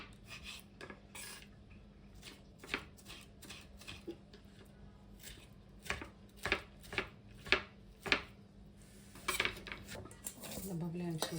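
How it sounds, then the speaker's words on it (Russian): A knife finely chops tomatoes on a cutting board with irregular sharp taps that quicken into a faster run of chops, close and moderately loud. "Мелко-мелко нарезаем томаты."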